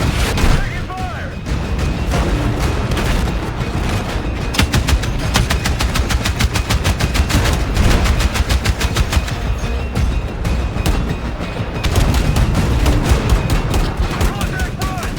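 Dense, sustained machine gun fire from a Battlefield 6 campaign battle, rapid continuous bursts with heavy booms mixed in, loud and close throughout the whole stretch with no pauses.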